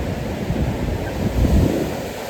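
Ocean waves at a beach on the west coast of El Salvador rumble in a low, continuous wash with gusty wind buffeting the microphone.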